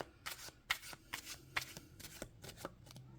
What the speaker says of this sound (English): I keep wanting to pull it out. Shuffles really nicely.